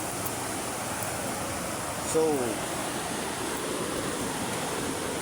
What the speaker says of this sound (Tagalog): Yan ang ilog namin dito mga kapasak.